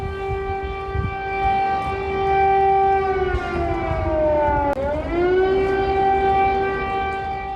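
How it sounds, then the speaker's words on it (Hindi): Air raid alert siren wailing over Kyiv, a loud sustained harmonic tone that holds steady, dips and falls briefly near the end, then rises again, continuous for the whole stretch with no talk. "तो ये सायरन सुना आपने।"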